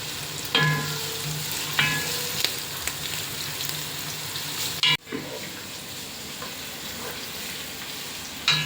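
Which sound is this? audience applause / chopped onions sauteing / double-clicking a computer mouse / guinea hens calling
chopped onions sauteing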